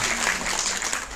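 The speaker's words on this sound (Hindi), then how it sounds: "बहुत जोरदार तालियां।" Brief burst of dense applause from the audience at a women's college program, fairly loud and uniform throughout.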